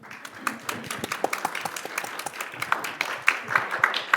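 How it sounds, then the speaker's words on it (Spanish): Audience applause welcoming Natalia Castaño at an Urbam arts event, a moderate crowd of scattered hand claps that stays fairly steady for a few seconds with no voices over it. "yo quiero que le demos un aplauso y la recibamos cordialmente"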